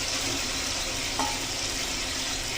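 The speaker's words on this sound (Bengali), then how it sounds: "এবার ডিমগুলো দিয়ে দিচ্ছি" Masala frying in a pan as eggs go in, a steady close sizzle and crackle of hot oil with a brief soft stir or clink midway, no talk.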